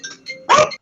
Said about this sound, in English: We got a wild dog over there in California.